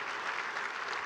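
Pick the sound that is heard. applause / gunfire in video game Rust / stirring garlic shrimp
applause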